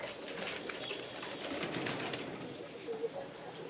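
Racing pigeons in a loft coo softly under a busy, rustling background with faint chirps, the murmuring continuous rather than a single clear call.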